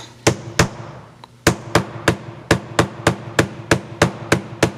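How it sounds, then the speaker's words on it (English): Sharp metallic hammer strikes close by, setting a rivet on a leather cuff bracelet: two blows, a pause, then a steady series of about a dozen evenly spaced taps. "you can strike this with a hammer"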